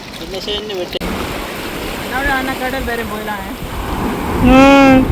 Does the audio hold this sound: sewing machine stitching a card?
no